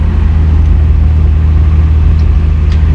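A 1969 MGC GT engine holding a fast idle around 1500 RPM, a loud, steady low rumble with an even pulsing throb, close by and with no voices.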